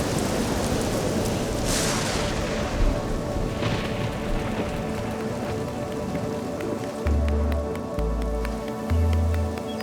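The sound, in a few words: heavy rain from a violent storm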